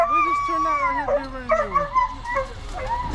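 Hunting dogs give a run of baying howls and yips while chasing deer on public land, drawn-out and wavering, with someone talking over them throughout.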